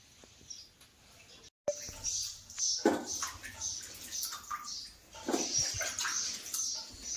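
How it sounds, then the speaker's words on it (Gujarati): Grapes and sweet potatoes are rinsed by hand in a basin of water, with close sloshing and splashing in several bursts between short quiet pauses. "દ્રાક્ષ ધોઈ દીધી સક્કરિયા ધોઈ બાફી દઉં"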